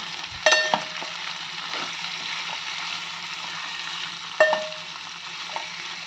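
Capsicum masala curry is stirred in a frying pan, with a continuous close sizzle and two sharp metallic clanks of a spoon against the pan, plus softer scraping strokes.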